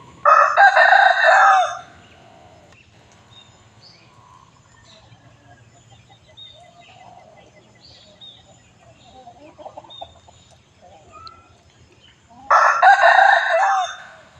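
A rooster crows loudly and close by at a temple in Chae Hom, Lampang, on a morning. One long crow comes at the start and a second near the end, with quiet farmyard background between.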